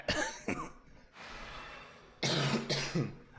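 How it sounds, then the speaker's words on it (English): Several harsh coughs from a month-long cough burst out close by, a pair at the start and another pair near the end, with a quiet stretch of breathy noise between. "I have had this cough for over a fucking month at this point"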